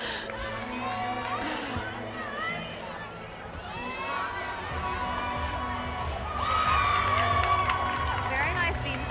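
Crowd noise fills a gymnastics arena during a college meet in the Coliseum, with children shouting and cheering over a steady roar of chatter that swells louder in the last few seconds, while commentators talk.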